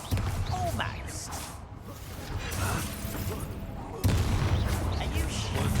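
Confringo and Bombarda spell blasts fired in Hogwarts Legacy combat: a dense, continuous stream of booming, crackling bursts layered over busy game noise, with a sharp jump in loudness near the end.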